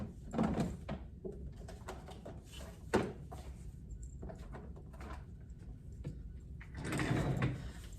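Classroom drawers being pulled open and rummaged through in a kindergarten room, with repeated wooden scrapes and clunks, a louder knock near the middle and a longer sliding rumble toward the end, close by and with no talking.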